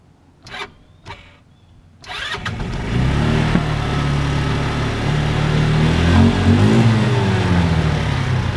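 A car engine cranks and fires up after a couple of brief clicks, then settles into a steady, fairly loud idle with a slight rev, heard close by with no talking.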